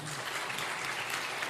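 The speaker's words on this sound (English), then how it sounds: "let's give an applause to the High People FinTech Hackathon" Audience applause at a women's fintech leadership event, a brief faint patter of clapping heard from a distance.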